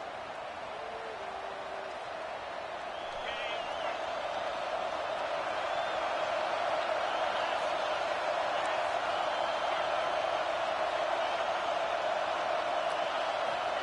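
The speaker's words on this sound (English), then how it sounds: "Listen to this crowd just shaking the girders of this place, trying to help their defense." Stadium crowd in the college football video game NCAA 26 keeps up a loud, steady roar throughout, building slightly after the first few seconds and holding a dense wall of noise with no speech.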